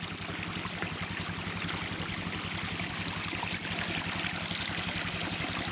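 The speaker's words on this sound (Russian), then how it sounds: "Вот такой вот отличный прекрасный ручеек." A small stream flows in winter, making a steady gurgling rush close by, with a low rhythmic throb running underneath throughout.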